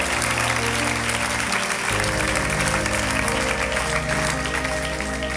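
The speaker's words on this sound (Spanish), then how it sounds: "Puede darle un aplauso al Señor si así lo desea." A church congregation at an evangelism service applauding the Lord, a sustained wash of clapping hands heard through a hissy old recording with a low background hum.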